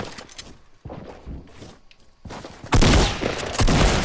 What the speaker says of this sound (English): Shoot out the bottom of the stairs.